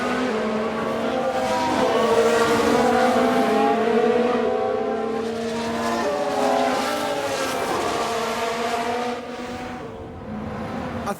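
A 1994 Ferrari Formula 1 car engine in F1 Manager 22 screams at high revs with rising and falling pitch through gear changes, loud and continuous, alone with no talking.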